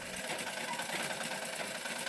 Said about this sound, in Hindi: तीन गो सिलाई मशीन भी है, सारा काम करे